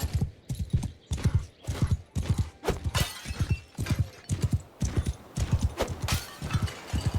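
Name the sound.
horse hooves in video game Mount and Blade Bannerlord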